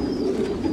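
Pigeons cooing at the Descheemaecker pigeon center loft in Belgium, a steady low murmuring coo from several birds close by, continuous through the moment with no talk.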